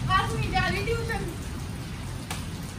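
Rain falls and soaks people outdoors beside a house under construction, a steady hiss of drops spread across the whole moment, with a voice speaking over the first half.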